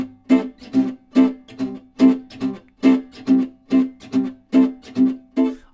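Gypsy jazz rhythm guitar played slowly in la pompe style, short percussive chord chops in an even pulse with accents on beats two and four, close and clear with no voices.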